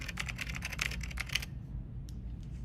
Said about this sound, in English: just like a regular computer typing sound